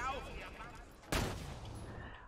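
A single sharp gunshot in the video game Borderlands 2 bursts out midway, loud and sudden, with a lingering tail; quieter game sounds and faint voices surround it.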